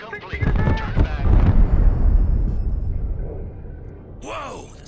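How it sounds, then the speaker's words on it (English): Heavy gun in the military strategy game Broken Arrow, a loud sustained rumbling barrage of booming fire that fades out, with a voice speaking briefly near the end. "The sound of that gun always gives me chills."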